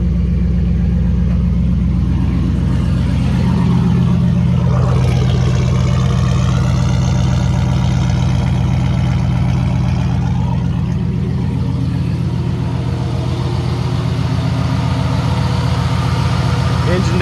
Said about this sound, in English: Engine doesn't knot or tick,